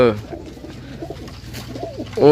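Pigeons kept indoors for sale coo softly in low, rolling calls close by, heard under someone talking throughout.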